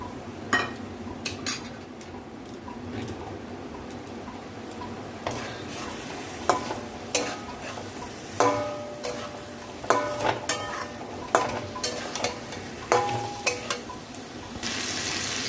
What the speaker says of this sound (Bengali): এবার জলে গোলা জিরে গুঁড়োটা দিয়ে দিচ্ছি।